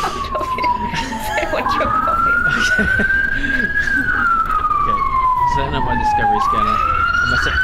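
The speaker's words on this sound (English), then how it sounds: "No, space police! That's space police!" A wailing space police siren from the video game Elite Dangerous sweeps slowly up and down in pitch, loud and continuous throughout, with someone talking over it and game noises underneath.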